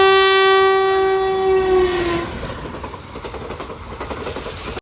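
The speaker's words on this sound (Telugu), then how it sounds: "సో ఇప్పుడైతే ట్రైన్ అయితే వస్తుంది." A WAP-4 electric locomotive sounds a long, loud horn blast as it arrives, then the horn fades into the rumble and rhythmic clatter of the approaching train.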